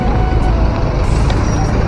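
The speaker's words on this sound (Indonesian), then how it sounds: "truk pengangkut tanah timbunan juga melewati kawasan ini" Heavy dump trucks hauling fill soil for toll road construction near Padang Sicincin rumble loudly through dense, jammed traffic, a constant deep engine drone with faint brief hisses and clanks on top.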